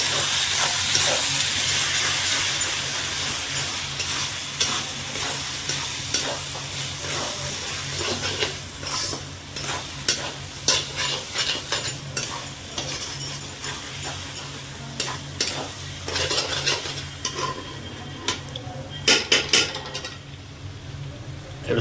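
Mutton masala is stir-fried in a pan, with a spatula scraping and clinking against the metal in an uneven rhythm over a constant hissing sizzle. The stirring grows busier and sharper toward the end.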